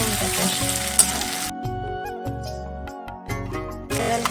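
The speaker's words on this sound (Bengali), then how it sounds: "ভালো করে নেড়ে চেড়ে ভেজে নেবো বন্ধুরা দেখো আদা রসুন পেস্ট ভালো করে ভেজে নিয়েছি" Ginger-garlic paste fries in hot oil while being stirred for potato curry, a steady loud sizzle with scraping stir strokes throughout, alone without talk.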